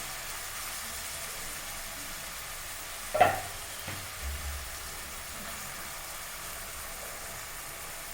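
Sliced onions with green chillies frying in a pan, a faint, even sizzle broken by one short clatter and a few soft knocks partway through.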